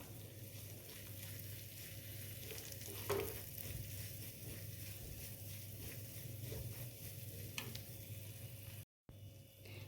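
Ground almonds and pistachios roasting in ghee give a quiet, even frying hiss with faint scrapes of stirring, low and steady throughout, with a brief dropout near the end.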